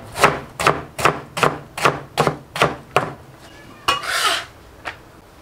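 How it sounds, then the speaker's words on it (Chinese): A knife on a cutting board chops peeled potato slices into thin shreds, giving about eight sharp, evenly spaced chops. A brief scraping rustle and one last knock follow. "然后把土豆片切成细丝"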